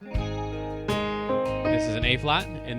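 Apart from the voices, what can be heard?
None of the usual background noises is heard.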